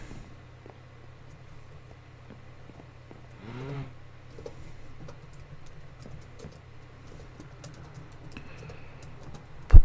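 Computer keyboard typing into a search box while playing the Minecraft modpack FTB Unleashed: sparse, light clicking keystrokes scattered over a steady low hum, with one sharper thump at the very end.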